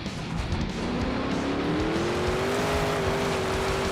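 The Max D monster truck roars at a freestyle competition, its engine a loud continuous drone with a rising pitch as it revs and climbs, heard close amid arena noise.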